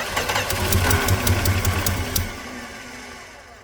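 A 1964 Plymouth Barracuda engine running with an exhaust leak, a steady low rumble with sharp ticking pulses over about two seconds before settling into a quieter idle, close and loud.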